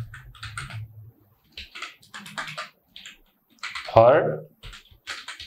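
Typing code on a computer keyboard, short clusters of quick key clicks with brief pauses between them, and a voice speaking over part of it.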